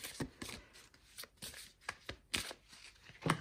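Oracle cards shuffled by hand for a seaside reading, a series of soft riffling and slapping bursts at close range, quiet and uneven in rhythm.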